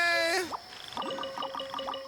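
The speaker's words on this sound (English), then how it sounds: "I love the fact that you can just hear the frogs chirping." Frogs in the Genshin Impact video game croak in a rising, chirpy series, a few close calls over a soft ambient game background, with no talking.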